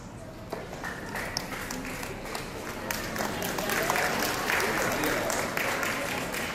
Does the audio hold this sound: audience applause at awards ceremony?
yes